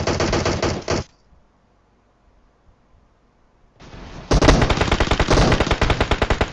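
Heavy bursts of rapid automatic gunfire from a PUBG Mobile match, a loud volley cutting off abruptly, a quiet gap, then a longer, denser stretch of close, relentless shots.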